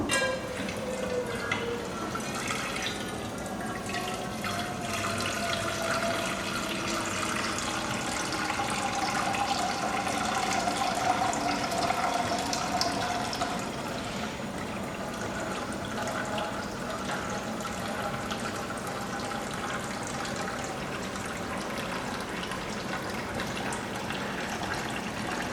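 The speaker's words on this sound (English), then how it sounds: "take your pan and fill it with water." Tap water runs steadily into a cooking pan, a continuous rushing gush whose pitch shifts slightly as the pan fills, heard alone without talk.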